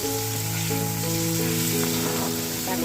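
Eggplant and potato fry in a pan with a steady, close sizzle that runs unbroken throughout, while a faint tonal hum sits underneath.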